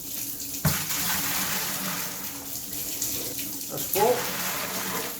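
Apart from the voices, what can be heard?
lukewarm water poured in for a sterilisation solution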